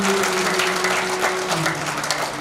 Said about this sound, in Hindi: हाथ उठाकर ताली बजाएं।